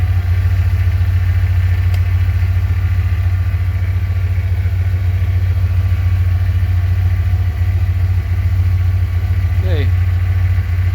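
A Ford F-150 engine idles with a stumble from degraded plug wires, a steady loud low rumble close by with a faint uneven pulse running throughout.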